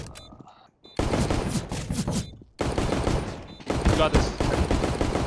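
Rapid automatic gunfire in a video game shooter, dense loud bursts broken by short pauses, with players talking over the shooting.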